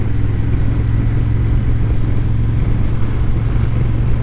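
Honda XL750 Transalp motorcycle being ridden, its engine a steady loud low drone with constant road and wind rumble, no voices.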